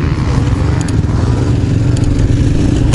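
A Yamaha 250 motorcycle climbs a hill in third gear, its engine a loud, close, steady rough drone with buffeting wind noise throughout.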